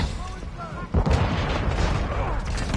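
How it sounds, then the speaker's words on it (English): A rocket launcher firing in Call of Duty, a sudden heavy boom about a second in that rolls into loud rumbling blast noise, preceded by quieter game sounds. "Somebody's shooting a rocket launcher."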